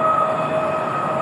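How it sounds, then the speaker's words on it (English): A train runs on a line about a quarter mile off, producing a loud steady rumble with a sustained tonal whine and no voices. "That's a train, so it gets loud."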